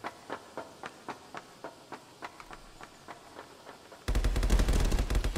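Gunfire from the VR shooter ContractorsVR during a competitive match: a rapid series of sharp, evenly spaced shots at moderate distance, then a louder dense burst of close firing at the end.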